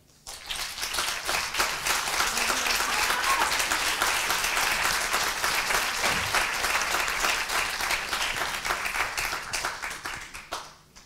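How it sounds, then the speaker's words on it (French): Sustained audience applause at the closing of a conference day, dense, even clapping from a large crowd that swells quickly, holds for several seconds and fades out at the end. "Je vous invite à les applaudir."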